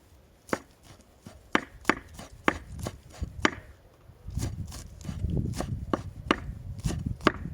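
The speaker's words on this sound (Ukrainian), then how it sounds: "І дрібно нарізаю молоду цибульку." Rapid knife chopping of young green onion on a board, repeated crisp taps in bursts, close up, with a duller rustling stretch midway and no speech.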